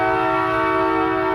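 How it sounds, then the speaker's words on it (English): A train passes close to nearby tracks, its horn blaring as a steady, loud, sustained tone over the rumble of the rail cars, with no talk. "There's a fucking train coming."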